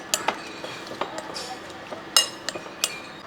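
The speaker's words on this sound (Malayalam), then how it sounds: "ഇനി ഇത് ഒന്ന് നല്ലപോലെ ഒന്ന് മിക്സ് ചെയ്തെടുക്കുക" A spoon stirring squid with spices and coconut oil in a dish, producing sharp irregular clinks and scrapes against the vessel, close and clear, with bright metallic taps standing out.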